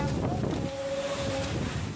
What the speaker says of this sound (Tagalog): Nagngangalit na alon naman ang nasaksihan ng ilang nangangalaga ng yating ito sa Bacuit Bay ngayong umaga.